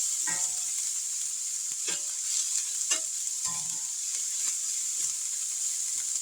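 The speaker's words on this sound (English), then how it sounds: "I love the smell of onions frying." Onions sizzle steadily in a skillet while being cooked for fried cabbage with smoked sausage, with a few soft stirring scrapes cutting through the constant close hiss; no one speaks.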